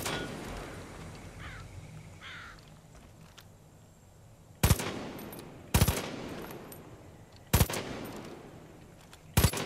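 Gunfire in Far Cry 5, four loud, separate shots spaced about a second apart over a quiet ambient background, each with a short ringing tail.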